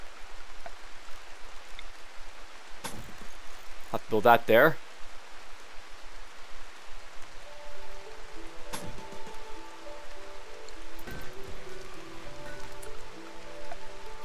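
Rain falling outside in the RimWorld video game, a steady soft hiss running throughout beneath a voice and occasional clicks and tones.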